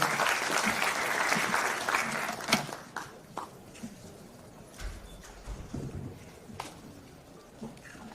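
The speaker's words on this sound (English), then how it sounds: "A round of applause for him as he comes to the stage." An audience applauds as a guest walks onto the stage at an economics summit, loud sustained clapping for the first few seconds that thins into scattered claps and fades out.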